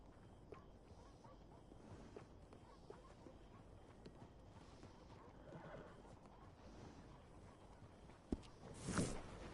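A horse whinnies loudly near the end of a quiet stretch of PS4 game audio, with faint hoof clip-clops and soft ambient noise earlier and no talking.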